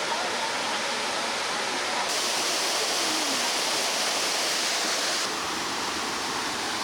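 A spectacular waterfall among the 300-year-old water features of Kassel Wilhelmshöhe mountain park, a steady broad roar of plunging water that swells louder for a few seconds in the middle.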